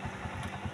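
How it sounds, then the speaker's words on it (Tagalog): A motorcycle engine runs steadily at speed on a long road trip, its low, continuous rumble close and fairly quiet, with no voices. "Ang motor talagang hataw ng takbo"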